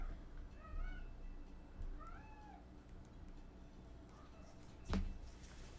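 Pet cats meow in excited, rising calls, several distinct meows spread across a quiet indoor room, then a sudden brief knock or bump near the end.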